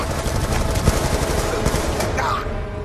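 Rapid automatic gunfire in the video game Call of Duty: Black Ops 2, a loud, dense fusillade of shots with a few sharper cracks standing out, continuing throughout with faint voices underneath.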